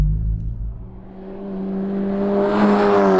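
A tuned Volkswagen Golf GTI TCR Stage 2 turbocharged engine, 360 horsepower, revs up smoothly, its pitch climbing steadily with a whirring, turbo-like tone, loud and close.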